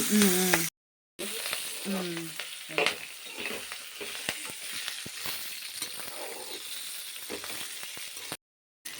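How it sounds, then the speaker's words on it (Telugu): Cumin seeds sizzle in hot oil in a kadai, with a steady crackling fry and scattered scraping ladle strokes, fairly quiet and close, with a voice briefly at the start. "ఇగో అమ్మ జీలకర్ర వేస్తుంది చూసారా"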